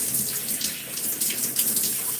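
Running water rinses shampoo out of hair, a steady close hiss of flowing water that holds at an even level throughout.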